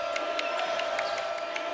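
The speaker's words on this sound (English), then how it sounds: "This crowd trying to will the green wave back into it." Home crowd at a Tulane Green Wave college basketball game against Houston, a steady dense roar of cheering and shouting filling the arena with scattered louder bursts, no clear voice on top.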